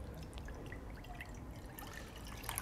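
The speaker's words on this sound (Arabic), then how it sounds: "أول حاجة كده هنزل هنا بكوباية لبن" A cup of milk is poured into a bowl for soft bakery-style brioche dough, a quiet, steady trickle with light drips, faint and alone with no talking.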